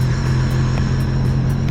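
A Sea-Doo RXP jet ski running with a steady engine drone and a continuous whir from its pump, loud and close throughout with no talk.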